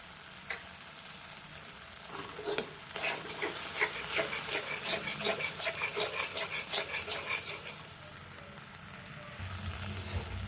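Whisked homemade yogurt added to a hot pan for a curd-based fish curry, a soft sizzle under rhythmic scraping strokes of stirring, fairly quiet and close, easing off near the end.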